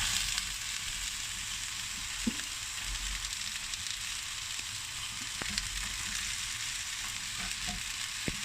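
Sprouted moong beans fry in hot oil with mustard seeds, cumin, garlic, onion and chili flakes, making a continuous soft sizzle with occasional light clicks and stirs, no talking.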